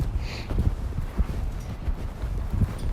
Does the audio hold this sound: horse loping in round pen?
yes